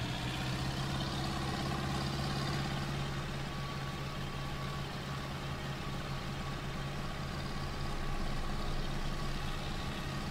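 A MAN truck driving in Farming Simulator 19, its engine holding a steady low idle-like drone with constant loudness throughout and no talking.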